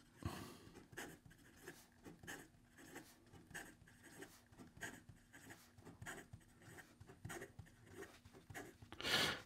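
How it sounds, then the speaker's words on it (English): An ebonite-bodied fountain pen with a stainless steel nib scratches quickly across paper, producing a rapid, close, continuous run of faint strokes and taps. "And then in regard to some fast writing,"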